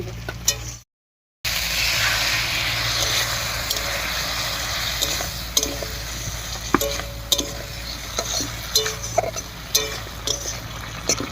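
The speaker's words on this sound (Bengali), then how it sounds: "মশলা বাটা জল দিয়ে খুব ভালো করে কষিয়ে নিয়েছি" Ground spice paste is fried with water in a pan for a jackfruit seed and moong dal curry. A continuous sizzle runs under repeated spatula scrapes that come in irregular knocks, close and fairly loud, broken by a brief gap near the start.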